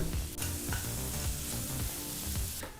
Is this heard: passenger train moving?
no